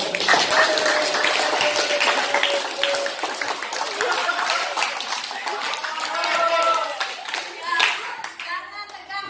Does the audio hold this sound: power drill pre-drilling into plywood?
no